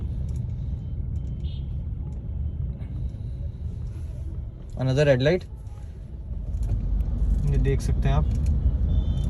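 A Mahindra XUV700 petrol manual SUV drives through city traffic, its low cabin rumble running steadily throughout, with a brief whine near the middle and someone talking over the engine noise.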